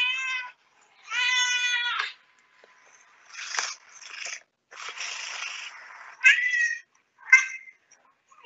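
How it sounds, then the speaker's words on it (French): A cat meows several times up close, some calls long and drawn out, others short, with quiet pauses between them. "Je vous remets des petits bruits de chat pour 1 minute."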